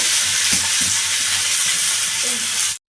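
Potato and ridge gourd pieces hit a hot pan of oil and fry with a loud, steady sizzle and a few soft stirring knocks underneath. The sound cuts off abruptly just before the end.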